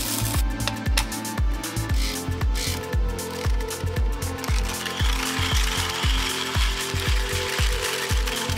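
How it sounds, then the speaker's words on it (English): MOMENTEM coffee grinder regrinding beans on a regular setting without the dechaffing sieve, producing a close, loud, rhythmic crunching and grinding rattle with repeated pulses, steady throughout and free of talk. "Let's do a regular grind without the dechaffing sieve."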